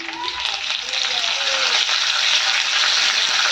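Pumpkin leaves sizzle in hot mustard oil, a loud, steady hiss close by with a brief faint voice early on.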